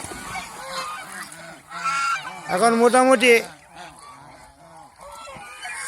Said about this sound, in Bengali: এই যে এটি পুরান হাঁস সবগুলাই মিটিংয়ে চলে আসছে